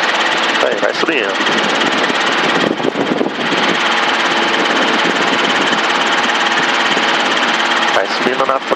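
A helicopter engine roaring loud and steady during the climb after takeoff, with brief crackling radio-like bursts breaking through now and then.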